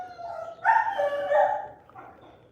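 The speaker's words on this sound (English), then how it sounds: "make the dog be quiet" A dog named Coco barks and yips in a short, loud burst of several sharp calls close by, then tails off into a faint whine.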